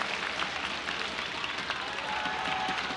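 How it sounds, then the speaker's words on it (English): A crowd applauds and cheers at the 2016 women's team world table tennis championship quarterfinal in Kuala Lumpur, Singapore against North Korea, with steady, dense clapping throughout. "We got the Singaporean crowd right there, Double X supporting."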